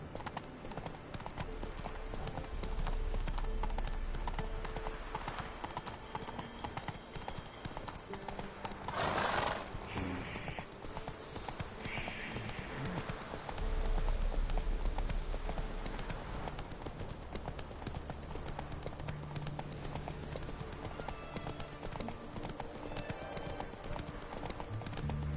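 Roach, a horse in The Witcher 3, gallops with steady rhythmic hoofbeats through the whole stretch, joined by a couple of brief whinnies, with game music and ambience underneath.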